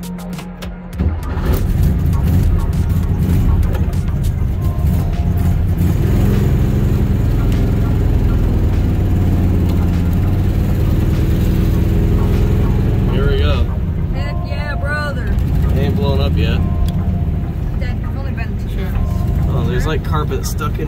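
An abandoned 1961 VW engine runs steadily just after starting, a loud, close, continuous low rumble that holds throughout while voices talk over it.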